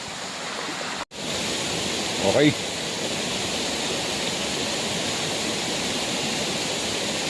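Pasukin Falls Spring in Ilocos Norte, with cold water rushing steadily like broadband noise, loud and continuous, while a voice speaks briefly over it.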